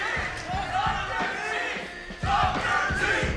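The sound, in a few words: tournament crowd cheering for Dr. T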